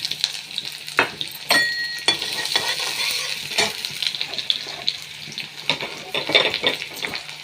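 Chopped onions hit hot oil in a pan and fry with a steady sizzle. Sharp scraping stirs and clinks of a utensil punctuate the sizzle, close up and with no talking.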